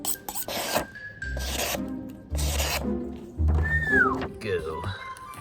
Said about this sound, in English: I gotta sharpen up this knife first